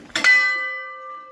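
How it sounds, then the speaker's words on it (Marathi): A single strike of the large bell at the old tiled-roof Rameshwar temple in Konkan, a sharp metallic clang that rings on with a long, bright, slowly fading tone. "एवढी मोठी आहे बघा घंटा"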